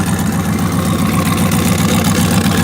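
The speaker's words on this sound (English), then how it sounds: "the clicking you hear is I got a header exhaust leak" A car engine idles steadily with a header exhaust leak, one header bolt being the wrong size, giving a constant mid-low rumble with a faint repetitive ticking running through it, close and continuous with no voices.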